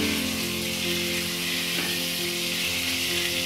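Potatoes frying in a pan, a steady close hiss of sizzling oil that continues evenly throughout without any talk.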